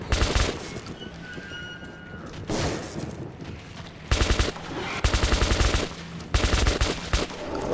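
Gunfire in the video game Metro 2033 Redux: several loud, close bursts of rapid automatic fire, separated by short pauses, with an opening burst followed by repeated volleys.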